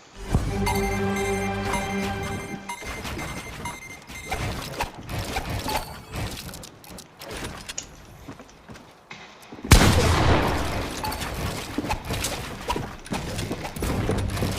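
Video game gunfire coming in as rapid bursts and single sharp cracks with mechanical clicks, loud and dense throughout, with a heavier burst of shots near the end.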